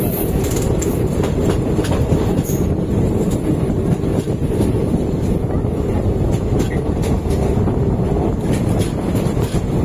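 The Circar Express passenger train runs on rails near Chengalpattu, a loud, continuous close-up rumble of wheels with steady clickety-clack from the carriages and heavy wind buffeting throughout.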